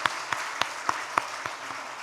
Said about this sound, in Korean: 우리 그분들에게 감사의 박수 한번